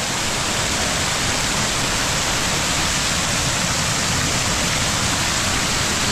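A strong river current rushes past, a loud, dense and unbroken roar of flowing water that stays constant throughout, close by with no voices.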